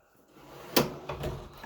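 A drawer in an auto technician's tool box slides open with a short scrape and a solid thunk, then a rattle of tools settling, heard up close and fairly quiet.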